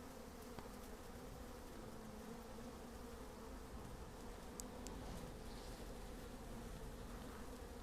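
A honeybee swarm gathered in a laundry basket gives a steady, even buzzing hum that runs the whole time, fairly faint and unbroken, with no voices.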